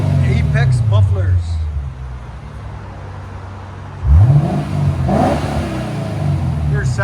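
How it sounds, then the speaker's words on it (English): A 2015 Lexus RC F with a 5.0 engine and APEXi mufflers: a close, loud exhaust idles, then snaps into a sharp rev that dies down, with some voices in the background. "Lexus RCF with Apex mufflers."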